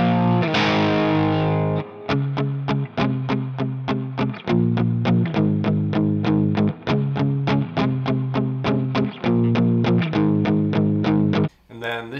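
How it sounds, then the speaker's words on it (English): Telecaster electric guitar through distortion, playing loud, crunchy chords in a steady rhythmic pattern of sharp, repeated strums, with a brief break near the end. "Telecaster here."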